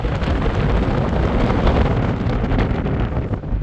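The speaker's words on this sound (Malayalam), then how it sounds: "ഭയങ്കര കാറ്റും മഴയാണ്" Steady, loud roaring wind from a storm with rain at a hilltop viewpoint in Nadukani Gene Pool Eco Park buffets the microphone throughout, a dense continuous rush that masks any rainfall.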